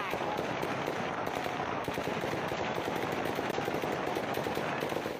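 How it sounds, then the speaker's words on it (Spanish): Dense, continuous gunfire during fighting in Melitopol, southern Ukraine, with crackling shots packed tightly together like automatic bursts, loud and steady throughout with no pauses. "Se escuchan disparos"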